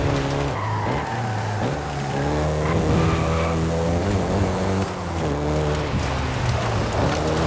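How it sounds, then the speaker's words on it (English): Volkswagen Golf GTI driven in Forza Horizon 5, its engine revving and shifting through rising and falling tones with tires squealing and skidding, loud and close throughout. "including the Golf GTI you're driving right now"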